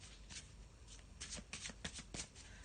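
A deck of black and white tarot cards being shuffled by hand, a string of quick riffling bursts and soft flutters, close and clear with no talking.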